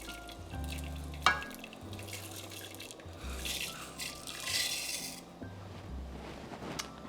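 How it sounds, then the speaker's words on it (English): A pot of orzo kept at a low, medium-low boil gives off steady bubbling and sizzle-like crackle, moderately close, with soft low knocks and one sharp tap, and no talking. "we've got kind of a low boil here"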